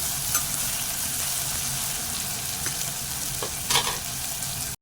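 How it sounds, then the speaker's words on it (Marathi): Steady sizzling of a spice tempering frying in hot oil, with Malvani masala and turmeric added, with occasional stirring scrapes, continuous and close. "फोडणी चांगली परतवून घेते गुलाबी होईपर्यंत फोडणीचा तडका जो आहे ना तो चांगला बसायला पाहिजे"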